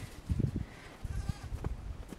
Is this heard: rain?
no